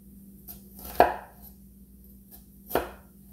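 Two sharp chops of a thick cleaver blade cutting through an onion on a board, the first a loud crunch and the second a bit softer, with quiet pauses between.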